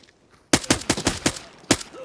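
A rapid burst of gunshots in the video game Arena Breakout Infinite, about six sharp cracks in quick succession, then a brief pause and one more shot, loud and close.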